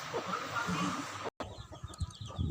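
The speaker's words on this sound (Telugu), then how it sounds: "మా కోళ్ళు సందడి చూడండి" Hens cluck and chatter nearby with a busy background murmur, broken by a brief cut, then more scattered clucks and knocks.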